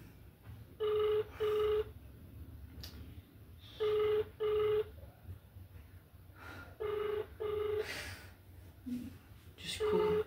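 A telephone rings unanswered, sounding in repeated short double bursts at a steady rhythm over a low background hum, with no voice picking up.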